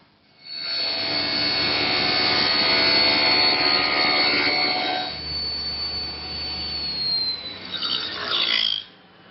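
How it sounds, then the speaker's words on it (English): A table saw makes a beveled cross cut in wood: a loud, close whine as the blade bites for several seconds, easing to a lighter spinning tone, then a short rattle as the cut finishes and the saw stops. "That's all the cross cut I can get with the table saw."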